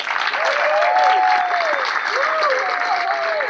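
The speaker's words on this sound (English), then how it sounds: "So let's give them a great round of applause" A crowd at a mixed doubles charity tennis classic applauds the defending champions in a steady, dense wash of clapping, with some voices audible through it.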